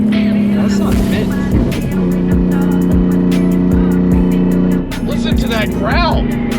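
A BMW E46 M3 with a Valvetronic exhaust revs loudly and close, a rough continuous growl with pulsing throttle blips and rising and falling pitch, while people talk over it.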